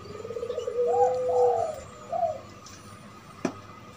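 A zebra dove (perkutut) coos a soft, trilling phrase of several rising notes, then a shorter coo after a pause, with a sharp click near the end.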